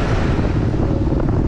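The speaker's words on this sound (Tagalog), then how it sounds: "Lakas pa rin ang hangin, no?" Strong wind roars steadily across the microphone while cycling downhill on a multi-day bike ride from Manila to Pagudpud, a loud, continuous low rumble with no pauses and no talk.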